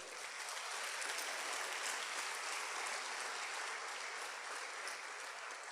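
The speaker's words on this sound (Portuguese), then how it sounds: "Você pode dar um aplauso ao Senhor?" A church congregation claps together in a steady, even burst of applause that fills the room and carries on without pause, heard from a little distance with no voices on top.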